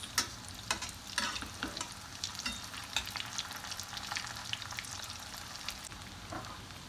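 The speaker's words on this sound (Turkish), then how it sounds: "Şimdi köftelerimizin kızarmasını bekleyelim" Steady frying sizzle of green lentil patties in a pan with scattered crackles and pops, fairly close, no voices.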